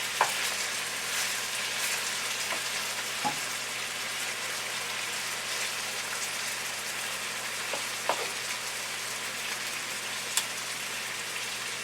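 Beef for pepper steak sizzles steadily in a hot frying pan, a constant crackling hiss with a few soft knocks of stirring and no voices.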